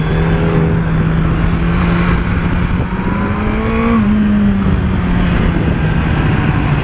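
A Yamaha R1 sportbike on a race track during a track day, its engine droning steadily at high revs for several seconds, with pitch shifts as the rider works the throttle, loud and close with no talk.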